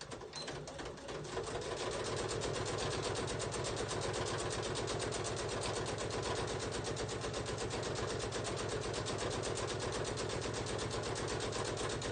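A sewing machine top stitches a mesh pencil pouch in a fast, steady, even rhythm of needle strokes. It runs close and loud, with no talk over it after a brief start.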